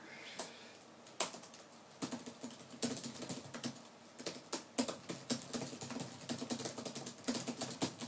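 Rapid typing on a computer keyboard, uneven bursts of clicking keys with brief pauses, close and fairly quiet, with no voices.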